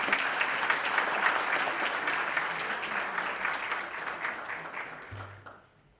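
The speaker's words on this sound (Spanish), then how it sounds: "Fuertes aplausos." Audience at a university ceremony honoring a professor breaks into sustained applause, a dense steady clapping that gradually thins and fades out over about five seconds.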